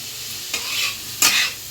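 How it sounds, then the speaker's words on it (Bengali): Paneer and vegetables sizzle and fry in a pan, with two brief louder scraping stirs over a steady close frying hiss. "এদিকে পনির ভাজা হচ্ছে এদিকে সবজিটাও হয়ে যাচ্ছে ফ্রাই করে"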